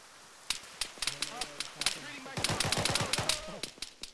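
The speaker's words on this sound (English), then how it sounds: "I'm under heavy fire" Heavy gunfire in the Arma 3 video game, with loud, sharp shots cracking out in irregular bursts and then a denser automatic volley, under a voice speaking in the background.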